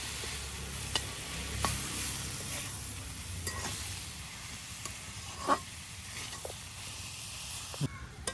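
Cabbage fries in oil in a pan over a village kitchen fire, giving a soft continuous sizzle broken by occasional clinks and scrapes of stirring, all fairly faint.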